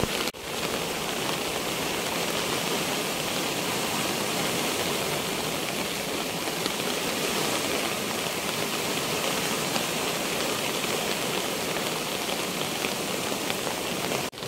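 A river swollen by rain that has fallen since the night before rushes through its widening channel, washing sand away in a dense, constant roar that carries on without pause and without talk.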